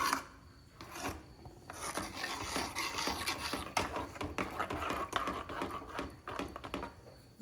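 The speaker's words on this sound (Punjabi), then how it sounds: "ਹੁਣ ਇਹਨੂੰ ਚੰਗੀ ਤਰ੍ਹਾਂ ਹਿਲਾਉਣਾ ਹੈ ਫਿਰ ਇਹਨੇ ਘੀ ਛੱਡ ਜਾਣਾ ਹੈ" A bottle gourd burfi mixture with malai and ghee is stirred in a pan on low heat, giving a quiet, continuous scraping and rubbing of a spoon against the pan, with uneven strokes and no talking.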